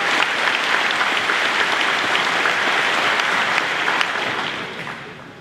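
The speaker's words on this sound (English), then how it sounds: "Let's give these folks a round of applause for their help and participation today." Sustained, dense applause from a large graduation crowd honoring student marshals at an Eastern Illinois University commencement, steady and loud throughout before tapering slightly at the end.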